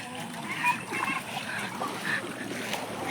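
Floodwater on a road in front of a house sloshing and splashing in short bursts as someone wades through it, close by, while a voice talks over the water.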